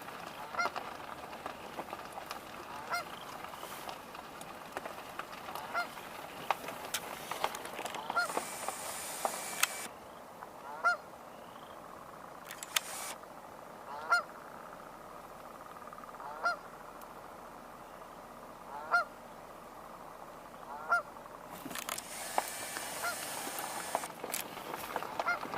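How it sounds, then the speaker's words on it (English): A Canada goose honks repeatedly at a distance over a damp spring wetland, single calls spaced every few seconds against a quiet background of faint frogs and birds. "Here, a Canada goose."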